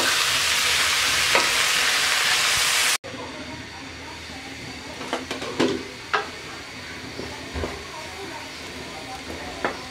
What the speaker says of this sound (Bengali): এবার আমি ভালো করে একটু নাড়াচাড়া করে ঢাকনা দিয়ে সিদ্ধ না হওয়া পর্যন্ত অপেক্ষা করবো